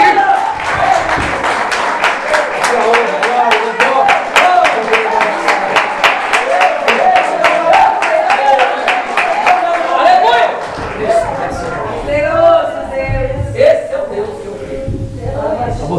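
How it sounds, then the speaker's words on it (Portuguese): Congregation at a Portuguese-language evangelical church service claps loudly in a quick, steady rhythm, many hands in near unison; after about eleven seconds the clapping breaks up and voices rise over it. "Dê uma salva de palmas para Ele."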